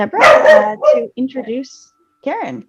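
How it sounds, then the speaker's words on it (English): A dog barks a few times close by during an online meeting, the sharp yaps mixed with a person speaking. "that's my dog"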